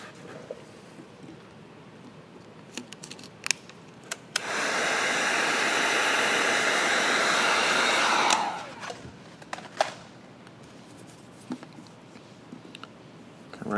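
Heat gun blowing steadily for about four seconds while smoked lens tint film is warmed on a Ford Bronco Sport light, with a steady airy hiss set between light tapping and handling sounds.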